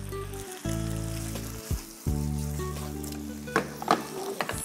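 Vegetables stir-frying in oil with soy sauce and chopped spring onion sizzle under loud, sustained low tones, with a few clattering knocks of a utensil toward the end.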